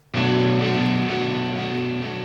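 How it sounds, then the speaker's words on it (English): Crunchy layered electric guitar rhythm played on a Strat for an indie pop track, entering abruptly as a loud, dense sustained chord that rings for about two seconds with no voices. "We started by adding in these electric guitar layers,"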